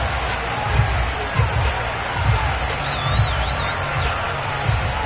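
Stadium crowd in the video game Madden, Bills versus Washington at FedEx Field, a steady loud roar of cheering with rhythmic swells and a few whistles.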